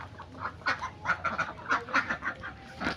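Ducks quacking in a series of short, nasal calls, several domestic ducks close by, with brief pauses between bursts and no talking.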